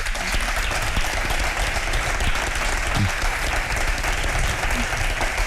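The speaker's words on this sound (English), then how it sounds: "Nancy Scola, I think another round of applause is due." Sustained applause from a conference audience at a tech and society event, dense and loud, a continuous wash of many hands clapping throughout.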